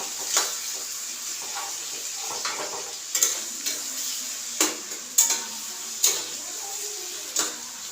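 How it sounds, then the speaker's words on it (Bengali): Tomato being stirred with salt in a pan, a spoon scraping and clinking against the metal at irregular intervals over a faint sizzle, with no talking. "নুনটা দেওয়ার পরে আমি মিশিয়ে নিই।"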